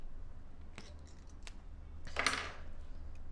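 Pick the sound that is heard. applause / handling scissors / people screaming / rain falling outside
handling scissors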